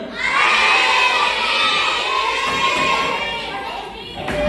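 Classroom of children shouting answers together in unison, a loud sustained chorus of young voices that rises at the start, holds, dips, and swells again at the end.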